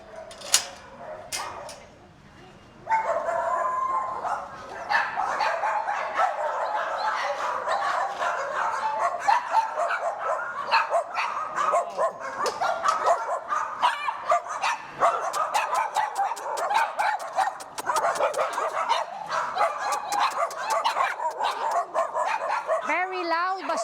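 A group of shelter dogs at the Soi Dog Foundation in Phuket, Thailand barking loudly and continuously close by, with yips and whimpers mixed in and a brief quieter stretch at the start.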